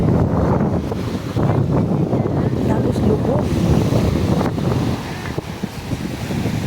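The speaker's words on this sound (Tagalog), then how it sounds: "Maalon ang dagat." Rough waves and gusting wind on a dark-sand beach during a family outing, a loud continuous surf roar with wind buffeting the microphone, and a voice speaking briefly over it.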